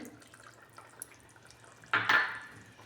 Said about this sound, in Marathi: अर्धी वाटी पाणी टाकते मी अजून